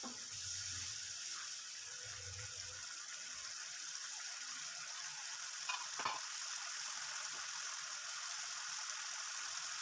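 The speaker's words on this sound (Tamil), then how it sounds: "நம்ம சேர்த்த புளி தண்ணி நல்லா கொதித்து வந்துருச்சு." Tamarind water for a brinjal and dal side dish boils in a cooking pot, giving a faint, steady bubbling hiss with a soft low rumble early on and a single brief clink near the middle.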